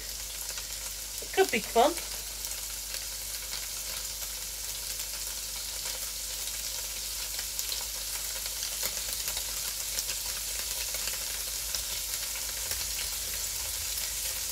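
Tofu sizzles steadily in a frying pan, a constant close crackle while a spatula scrapes briefly early on and a voice speaks.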